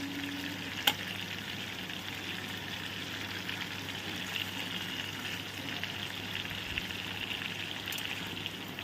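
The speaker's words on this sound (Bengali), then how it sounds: "তেলটা খুব ভালোভাবে গরম হয়ে গেছে এবার আমি এর মধ্যে গোটা গরম মশলা অ্যাড করে দিচ্ছি" Whole garam masala spices sizzle and fry in hot oil, a steady close crackle throughout with a single sharp clink near the start.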